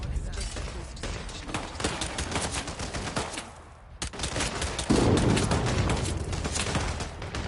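Rapid bursts of automatic gunfire rattle toward the player in Hitman 2, loud and dense, with a brief lull and then a heavier, louder barrage near the end.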